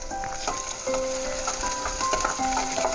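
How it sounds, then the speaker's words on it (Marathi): Chopped onion and green chili fry in a pan over a medium flame, a steady close sizzle with a few faint tonal hums running through it. "कांदा आणि मिरची बी ह्या ठिकाणी अर्धी फ्राय झाली आहे"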